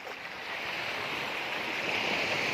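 Sea waves wash steadily onto the sandy beach of Fortune Island, a broad continuous roar of surf with some wind noise, alone and fairly loud throughout.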